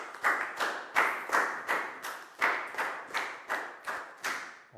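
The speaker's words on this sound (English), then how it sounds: "High five and a big round of applause for Bangpon," Classroom applause for a student during a primary science lesson, made up of about eleven evenly spaced, loud claps that sound like a small group clapping together in a steady rhythm.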